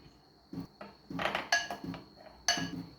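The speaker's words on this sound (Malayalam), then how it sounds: "ഇത് നന്നായി ഇളക്കുക" A spoon scrapes and clinks against a bowl while cumin, sugar and turmeric are stirred into batter, in several irregular close clattering bursts with quiet gaps between them.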